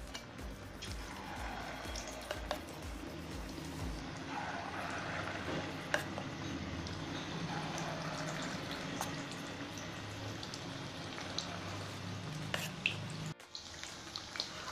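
Gram flour batter dropped into hot oil in a wok gives a steady, low sizzling and bubbling that runs throughout, with a few soft drips and clinks and a brief break near the end.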